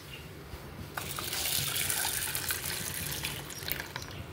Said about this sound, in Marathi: आता हे पाणी आपण डाळीमध्ये ओतणार आहे